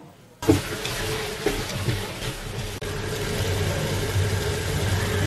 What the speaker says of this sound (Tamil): இந்த வெங்காயத்தை வந்து நல்லா ப்ரௌனாக வதக்கிக்க போகிறோம்